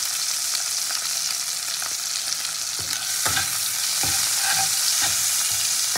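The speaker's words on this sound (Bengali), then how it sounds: "টমেটো ভাজা হবে, টমেটোর মধ্যে একটু নুন দিয়ে দেবো আমি" Chopped tomato with salt fries in a pan under a loud, even hiss of sizzling, and in the second half a spoon scrapes and stirs in several short irregular strokes.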